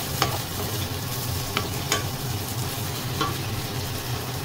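Chorizo and meat for fried rice are stirred in a hot pan. A dense, continuous sizzle is broken by several sharp scraping strokes of a spatula.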